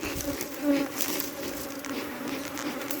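Dense, steady buzzing of many honey bees swarming close by at an apiary in Trinidad, continuous throughout with slight swells in intensity.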